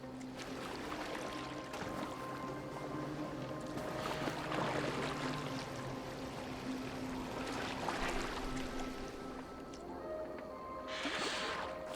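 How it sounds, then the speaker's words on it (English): A Viking longboat moves through water in Assassin's Creed Valhalla, with soft splashing and steady rushing water at low level, occasional swells of wash, and faint tonal game ambience beneath. "Are you well enough to steer this boat?"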